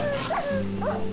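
Dogs in Minecraft Feed the Beast give two short whining yips in quick succession, close and clear over a steady background drone.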